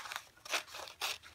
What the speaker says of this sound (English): So now that I found my scissors, I'm going to